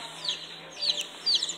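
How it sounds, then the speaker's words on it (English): Soft, faint chirping and cheeping from chicks and ducks, a few brief high calls spread over steady low background noise. "Chicks and ducks. Six birds."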